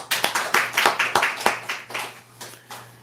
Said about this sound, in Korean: 어디 축하의 박수 해주시죠